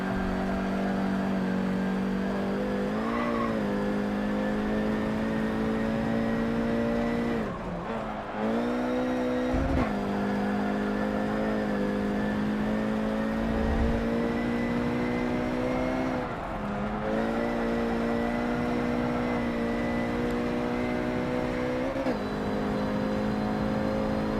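Racing car engines in Forza 7 drone loudly and steadily for the whole stretch, rising and falling in pitch through gear shifts and brief lifts, with a rival S2000 pulling away on the straightaway.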